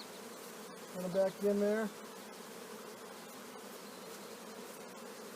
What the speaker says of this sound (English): all the bees you see flying around are the foraging bees